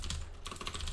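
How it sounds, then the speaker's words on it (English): Quick, steady keystrokes clatter on a computer keyboard while JavaScript code is entered, a dense run of close clicks with a brief pause partway through and no voices. "I can do the typing."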